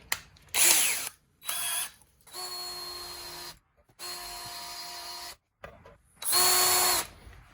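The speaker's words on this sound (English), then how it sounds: "I think I'm gonna try with a 1/4 inch drill bit" A power drill with a 1/4 inch bit whines in several short bursts separated by brief silences, each run a steady high-pitched grinding as it bores into the body panel of a 1966 Triumph GT6.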